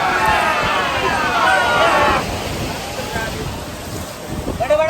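Sea waves surge and wash ashore at Anjuna beach in Goa, a loud continuous roar of surf with wind buffeting the microphone, easing slightly midway while people talk in the background.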